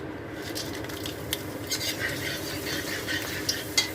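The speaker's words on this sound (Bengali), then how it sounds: "গরম মশলা ফোড়ন দেবো, নিয়ে নিয়েছি তেজপাতা, লবঙ্গ, দারচিনি আর এলাচ।" Whole spices frying in ghee, bay leaf, cloves, cinnamon and cardamom, with a soft steady sizzle and occasional clicks of a spoon stirring against the pan.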